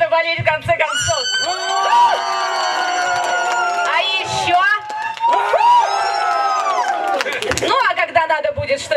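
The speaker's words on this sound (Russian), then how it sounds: "Давайте покажем, как надо болеть в конце концов." Supporters of a team at a contest during an autumn rally cheer, shout and chant together, high excited voices rising and falling in loud bursts with a short pause in the middle.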